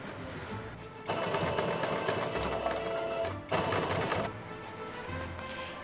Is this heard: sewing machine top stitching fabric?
yes